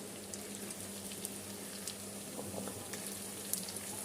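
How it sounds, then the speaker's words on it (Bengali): Chicken pieces fry in a pan with a steady, even sizzle and scattered small pops and crackles, continuous and fairly close, with no voices over it. "ভাজা হয়ে এসছে প্রায়, এই যে লাল লাল ভাজা ভাজা হয়ে এসছে"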